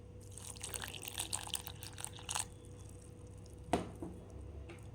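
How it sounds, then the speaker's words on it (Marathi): A little water is poured onto sprouted moong dosa batter ingredients with coriander and green chillies, a faint, brief splashing trickle followed by a single soft drip-like plop in a quiet room. "त्यानंतर थोडंसं पाणी याच्यामध्ये आपल्याला घालून घ्यायचं आहे"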